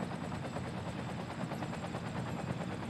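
Helicopter flying over a city in Cities Skylines, a steady rapid rotor chop throbbing evenly throughout at moderate loudness.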